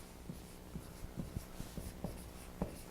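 A pencil scratching across a paper pad, with a run of short, soft strokes at an uneven pace, quiet and close with no talking.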